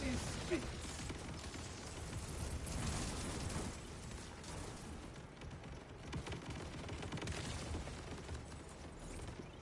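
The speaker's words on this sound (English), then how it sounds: "So, the fact that this gun pops off like that" A gun fires in the video game Borderlands 4, with explosive pops and bursts rolling and overlapping in busy bouts of combat, set under a game soundtrack with someone talking over it.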